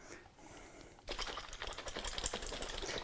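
A small shaker ball rattles inside a mason jar holding a keto dessert mixture, a dense burst of rapid, loud clattering that starts abruptly after a quiet second and keeps going steadily to the end.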